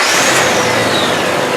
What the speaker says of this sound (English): we'll start the vehicle up, let it run for 5 minutes